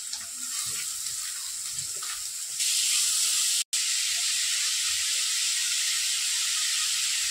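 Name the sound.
onions sautéing in a pan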